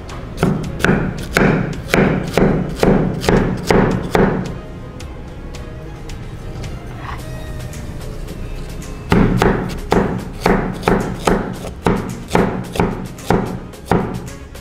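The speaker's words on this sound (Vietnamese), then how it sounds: "bây giờ thì mình sẽ sử dụng một con dao khác để mà thái hạt lựu cái phần ổi này nha" A stainless steel knife dices guava on a cutting board in a quick series of sharp, close chops, pausing for several seconds before a second rapid run of evenly spaced knocks resumes.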